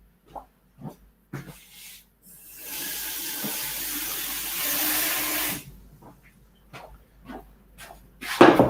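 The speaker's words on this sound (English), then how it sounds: "let me just get some water in the pan" Tap water runs into a pan for a few seconds, a steady rushing stream, framed by scattered clinks and kitchen handling noises before and after.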